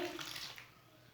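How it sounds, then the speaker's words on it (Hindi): Water is poured into a bowl of spiced pakora batter for a kadhi pakora recipe, a short, faint splashing trickle that fades within about a second, with no talk. "अब थोड़ा पानी डाल लेंगे"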